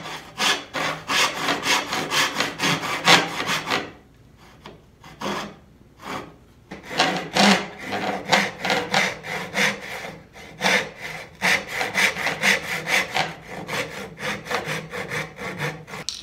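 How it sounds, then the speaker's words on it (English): A hand crosscut saw cuts wood for drawer dovetails on a sideboard, giving close, rhythmic back-and-forth rasping strokes that pause for about two seconds partway through, then continue steadily to the end. "I've got my crosscut saw right here."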